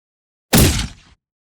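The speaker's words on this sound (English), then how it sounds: "now I'm doing this morph thing between a gunshot and the electrical sound" One short, loud blast with a sharp attack and a crackling, buzzy tail, like a gunshot blended with an electric zap, surrounded by silence.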